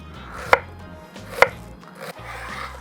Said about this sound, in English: turn it sideways, and we'll want to go into nice thin slices.